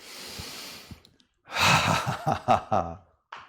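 A laughter yoga group inhales deeply together, a soft breathy rush followed by a burst of breathy exhaled laughing pulses, close and fairly loud.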